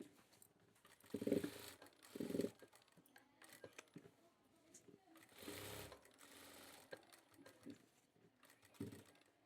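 A sewing machine stitches a shirt pocket with a short lock stitch and double stitching, running in several quick bursts separated by pauses, with faint speech in between.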